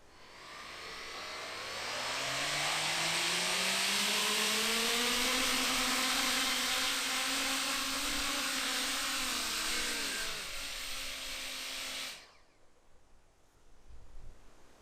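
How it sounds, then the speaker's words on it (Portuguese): Small Coanda-effect drone with several electric motors spinning up at full throttle for a first test flight, a loud rising whine with climbing harmonics that holds for about ten seconds, then cuts off abruptly, leaving quiet background. "vamos ao primeiro teste do drone de efeito Coanda."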